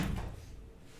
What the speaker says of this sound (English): We just had a wallaby bump into our external window